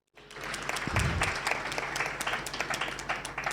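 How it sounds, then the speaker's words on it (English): Audience applause at an HIV and women's health symposium, a steady wash of many hands clapping that starts abruptly and continues evenly throughout at moderate distance. "So just one round of applause for them"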